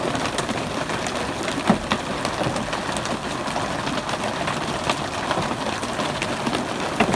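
Outdoors on a farm, rain mixed with a few hailstones hisses steadily, broken by occasional louder close taps, with a faint low rumble underneath and no voices.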